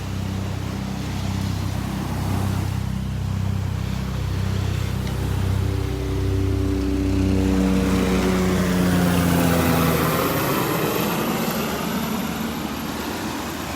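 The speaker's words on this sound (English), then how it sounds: "here comes that noisy spray helicopter" A crop-spraying helicopter flies over a beach, its steady droning engine and rotor hum lasting throughout, loud and continuous, its pitch sliding downward as it passes, with no voices.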